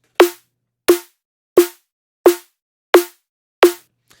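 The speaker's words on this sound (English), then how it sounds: "pretty simple snare, but pretty lifelike sounding" Six evenly spaced punchy layered drum and bass snare hits, each a sharp crack with a short tonal body, played alone with silence between them.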